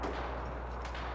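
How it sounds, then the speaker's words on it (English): Distant gunfire in the Apex Legends video game, a short burst of muffled shots over a dense low game rumble. "Oh, I hear people shooting, man."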